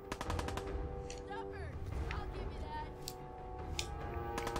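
Gunfire from raiders in Fallout 4, with rapid bursts and scattered shots over continuous dense game noise and music, steady and busy throughout, with voices talking over the action.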